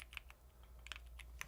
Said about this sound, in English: Why am I typing?